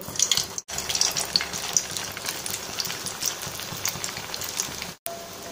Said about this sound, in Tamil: இப்போ இதில் இந்த பண்ணி வச்ச ப்ரெட் இதையெல்லாம் ஆயிலில் போட்டுடலாம்.